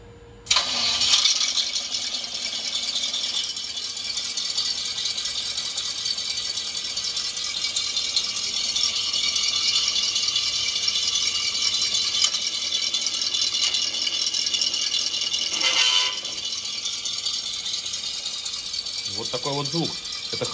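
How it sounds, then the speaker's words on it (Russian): The engine sound unit of a Kingkong RC 1:12 scale ZIL-130 model truck starts with a sudden burst, then settles into a steady rattling idle that stays loud and close, with a brief shift in pitch near the end. "А я завожу свой ZIL."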